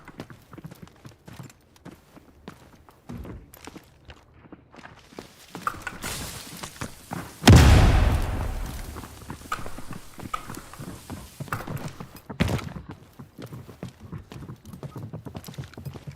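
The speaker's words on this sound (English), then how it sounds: "you just hear all the footsteps" Footsteps and clip-clopping hooves in a video game, with a loud crashing burst midway, other impacts scattered through, and busy game sounds around them.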